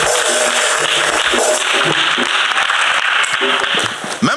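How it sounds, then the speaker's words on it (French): Congregation applause offered to Jesus Christ at a church service, loud dense clapping and cheering throughout, with music and voices mixed in. "Clap offering to Jesus Christ."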